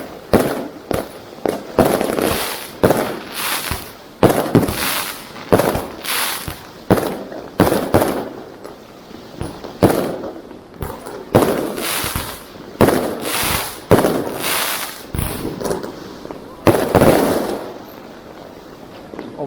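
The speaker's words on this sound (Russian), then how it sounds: "Взрывы идут конкретные. Хлопки." New Year's night fireworks in Yakutsk bursting between city apartment buildings: dense, repeated loud bangs and crackling pops, some near and sharp, others echoing farther off, continuing steadily throughout with no talking.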